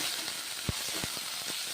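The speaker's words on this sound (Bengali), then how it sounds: "তেল গরম হয়ে গেছে, কড়াইয়ের মধ্যে মূলো শাক ছেড়ে দিলাম।" Radish greens frying in hot oil in a wok give a steady broadband sizzle with a few brief pops and spatula scrapes scattered through it, close and moderately loud, with no one talking.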